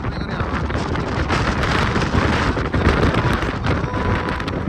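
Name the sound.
strong wind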